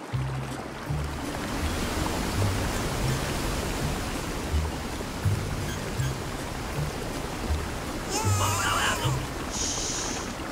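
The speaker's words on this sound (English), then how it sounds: "The waterfall is so noisy." Steady roaring rush of a cartoon waterfall fills the whole stretch, loud and continuous, with faint higher splashes near the end.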